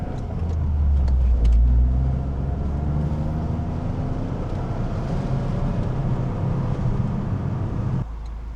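A Toyota GR Corolla drives along, its engine and road noise a steady, fairly loud drone from inside the cabin, swelling briefly early on and then holding level until it drops slightly near the end.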